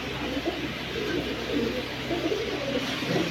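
Silver and coloured fancy pigeons coo steadily in a dense, continuous layer of low throaty murmuring, fairly close and unbroken for the whole stretch.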